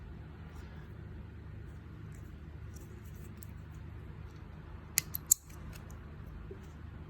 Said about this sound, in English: We'll get our snips and cut this zip tie off.